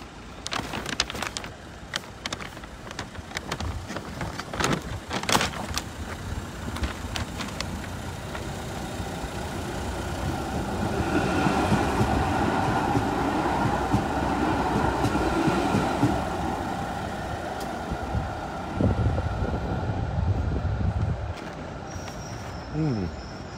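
A tram passes along a street in Germany; its rumble and rail squeal swell loudly through the middle of the stretch and then ease off, with quieter street noise and a few sharp knocks around it.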